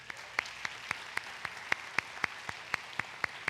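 Church congregation giving applause, heard here as a single pair of hands clapping in a slow, steady beat, about a dozen sharp claps spaced evenly and close by.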